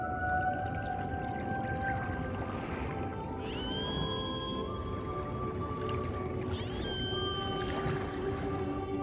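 Dolphin off the Breton coast giving a series of faint underwater whistles and squeaks, rising and falling tones in short bursts over a steady watery hiss.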